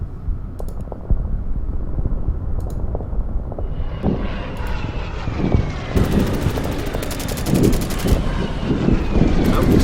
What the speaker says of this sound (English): The fighters will take out the bomber.